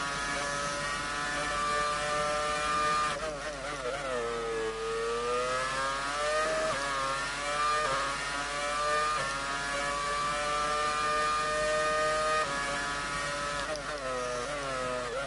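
A Formula 1 car engine in F1 2019 lapping the Bahrain circuit, a loud high-pitched whine rising and falling as it revs through gears and corners, alone with no talk.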